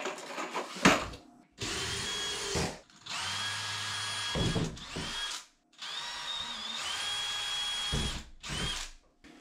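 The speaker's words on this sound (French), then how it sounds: "Je vais pouvoir me visser dans le montant en bois." A power screwdriver drives screws into a wooden stud during a toilet installation, giving several close whirring bursts of varying length broken by short pauses, with the motor pitch rising and straining as each screw bites.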